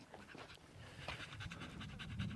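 A dog pants rapidly and steadily in desert heat, the quick breaths close and continuous throughout, with no voices.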